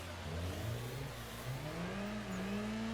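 A car engine in the racing sim Assetto Corsa revs up and down during a drift, the pitch climbing as the throttle comes back on, loud and close with no talking.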